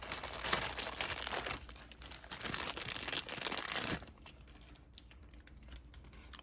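Plastic packaging around a Demon Slayer figure is ripped and crinkled open, close and fairly quiet, with a dense crackling stretch that thins to softer rustles.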